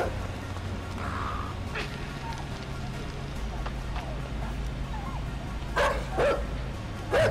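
A dog in the video game Inside barks and chases, its sharp yips and barks bursting out near the end over a steady low game backdrop, with a voice talking quietly underneath.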